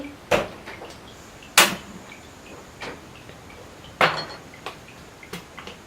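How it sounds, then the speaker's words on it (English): Garlic and chili are pounded in a pestle and mortar for Thai pad kaprao: about six sharp, separate knocks at uneven intervals, close and crisp, with quiet pauses between the strikes. "if we pound this in the pestle and mortar, it will bring out the flavor of garlic and chili"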